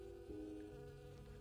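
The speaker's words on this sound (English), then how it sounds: "the bees have already begun. Moving from flower to flower, gathering nectar." Bees moving between flowers to gather nectar, a faint, steady droning buzz with a low, even hum throughout, no voices.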